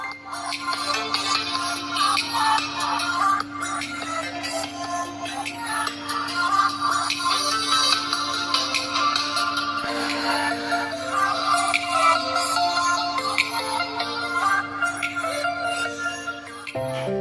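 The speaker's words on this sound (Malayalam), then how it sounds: "ഇനി ഫോണിൻ്റെ സൗണ്ട് ക്വാളിറ്റി ഒന്ന് ടെസ്റ്റ് ചെയ്ത് നോക്കാം" Music plays continuously through the single speaker of an Honor X7 budget smartphone, sounding thin and somewhat boxy at moderate loudness with a steady low hum.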